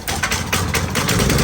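A gasoline pressure washer engine, run with the choke on, sputters and then settles into a loud, close, rough running chug.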